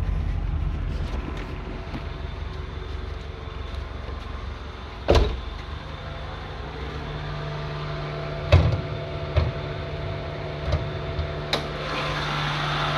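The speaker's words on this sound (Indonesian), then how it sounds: "Mesinnya kategorinya halus, suaranya juga halus." A car engine idles smoothly and steadily during an inspection, a low even hum with faint hiss and a few brief clicks or knocks, no one speaking.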